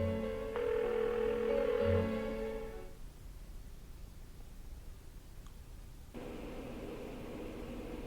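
A phone call tone in the video game Persona 4 drones steadily, followed by a hissy, static-filled line and then another steady tone as the unanswered call continues.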